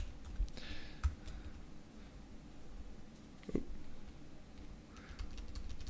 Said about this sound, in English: I got too many, typing too many letters